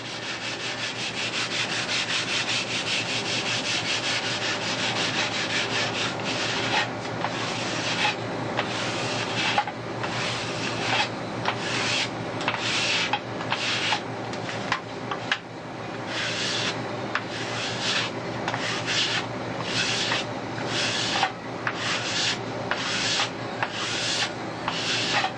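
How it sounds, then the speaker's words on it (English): Hand sanding of wood with a sanding bar, a long run of loud, close rasping strokes in a steady back-and-forth rhythm, with no talk over it. "Then you have to get the final last little bit with the old sanding bar"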